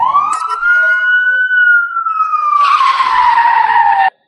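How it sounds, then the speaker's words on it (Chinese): A loud siren wail sweeps up and holds as police special-forces vehicles race in, then a harsh tire screech cuts in over it before everything stops abruptly. "数辆特警车疾驰而来"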